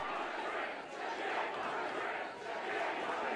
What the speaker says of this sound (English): The Revolver crowd rallying behind Jake Crist